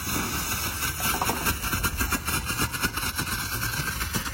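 Lighting flash fireworks burn inside a plastic water gallon with a continuous fizzing, crackling rush and rapid pulsing flutter, loud and close, with no speech.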